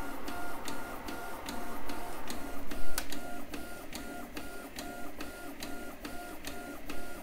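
A fast 3D printer with a Nova hotend on a Duet board prints flexible TPU at 240 mm/s, giving a continuous whine of stepper motors with rapid regular clicks and ticks as the head moves, heard close.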